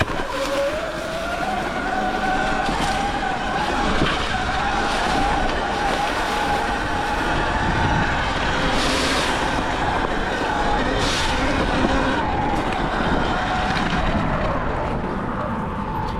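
Electric Surron Light Bee dirt bike ridden along a dirt singletrack trail, a steady motor whine with rising and falling tone over continuous tire and trail noise, close and fairly loud throughout.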